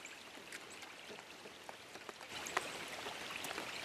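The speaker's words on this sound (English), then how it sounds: "Raining a little bit over here at the Honey Hole." Light rain falls at a grassy fishing spot, a faint, steady patter with scattered drops and no voices.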